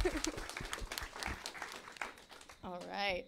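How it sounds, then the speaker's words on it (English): A brief round of audience applause at a community talk by a shark expert, soft and somewhat distant, mixed with voices and cheers, with a sung or whooping voice rising at the end. "Let's give a quick, big round of applause for Lynn"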